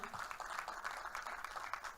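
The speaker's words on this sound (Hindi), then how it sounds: "एक बार जोरदार तालियां हो जाएं।" Audience applause at a Punjabi film trailer launch event, a steady, fairly faint wash of clapping filling the full two seconds with no distinct individual claps standing out.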